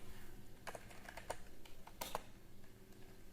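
Keys clack at close range on a computer keyboard during an Arch Linux install in VirtualBox, a few sparse, irregular taps over a quiet room hum.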